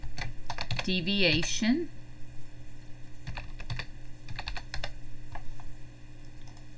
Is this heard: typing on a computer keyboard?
yes